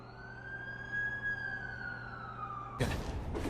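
An ambulance siren wails in a slow, sweeping tone in The Amazing Spider-Man 2 video game, steady at mid distance, then gets cut off by a sudden burst of broadband noise near the end.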